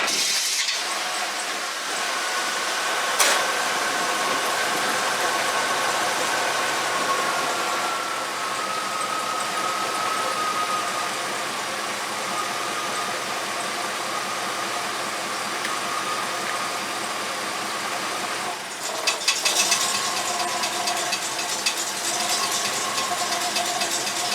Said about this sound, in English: you see how loud the engine's running right now